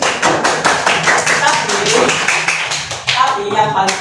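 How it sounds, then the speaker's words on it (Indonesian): Children in a classroom clap their hands together in a quick, steady run of sharp claps that lasts throughout, with young voices calling out over the clapping. "Tepuk tangan."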